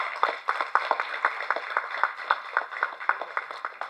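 Audience applause at a film press meet, a steady patter of many hands clapping in an indoor hall, fairly close and continuing throughout with no speech over it.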